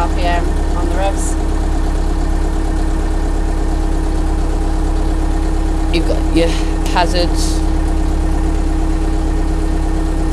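A tractor engine idles with a steady low, close drone throughout, while someone talks over it about the controls.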